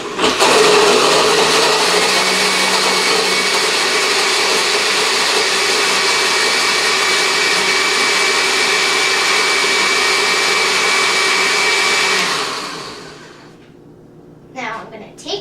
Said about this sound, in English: my blender has a smoothie button on it,